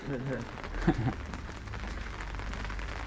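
Rain falling steadily on back streets in Lyon, France, a continuous soft hiss with a voice briefly over it early on.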